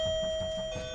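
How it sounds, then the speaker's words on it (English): A doorbell rings once with a steady, sustained electronic tone, close and clear, in a staged demonstration re-creating a deadly delivery at a front door. "You actually brought in a doorbell."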